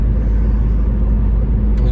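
Steady near engine and tyre rumble of a car cruising at highway speed on a UK road in heavy fog, a continuous low drone throughout with no speech.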